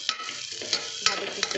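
Onion is sautéed in a pan for bachelor-style sorakkai sambar, a close sizzle punctuated by four sharp spatula scrapes in quick succession.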